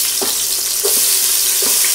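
Onion and tomato frying in a pan with a steady loud sizzle, stirred a few times with soft scraping, close by and without speech.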